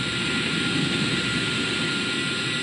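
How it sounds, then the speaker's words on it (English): A spaceplane's engines roar steadily in Kerbal Space Program, a broad, even rush of jet noise that keeps going at constant loudness with no pauses. "let's enable all our engines."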